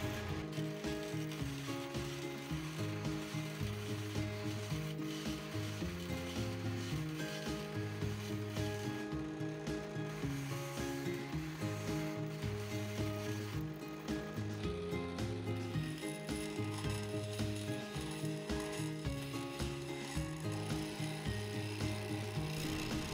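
Bocote wood being turned on a lathe into a fountain pen, a steady whirring, rubbing hum with the cutting tool scraping along the spinning blank, continuous and fairly quiet throughout with no voices.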